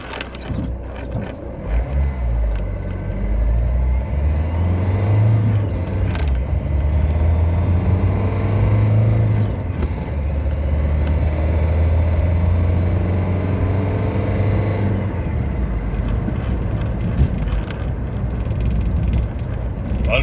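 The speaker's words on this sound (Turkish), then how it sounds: "Sıfırdan 70'e bir çıkaralım arabayı." Steady car engine drone at night with low rumble that rises in pitch as the car accelerates from standstill to 70, shifting gears partway, loud and continuous without talk.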